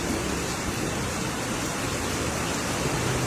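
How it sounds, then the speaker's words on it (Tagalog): Steady rain falling outdoors, a dense, even hiss that stays constant and fairly loud throughout, with no voices. "Ngayon lang umulan ulit eh."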